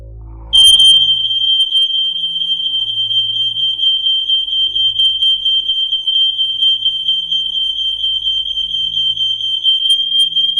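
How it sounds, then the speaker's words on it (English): An ionisation smoke alarm sounds a loud, steady high-pitched electronic tone that begins about half a second in and holds unbroken to the end, with faint low rumbling underneath. "demonstrate that this was a fully functioning ionisation alarm"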